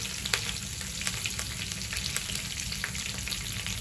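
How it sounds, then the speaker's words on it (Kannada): Chillies and curry leaves sizzle steadily in hot oil for vegetable chitranna, a loud continuous frying hiss broken by scattered crackles and pops as the pan contents are moved, with no voices. "ಇದನ್ನೆಲ್ಲ ಹಾಕ್ಕೊಂಡು ಒಂದು ಚೆನ್ನಾಗಿ ಬಾಡಿಸ್ಕೊಳ್ಳೋಣ"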